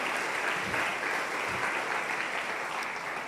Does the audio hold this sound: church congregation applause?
yes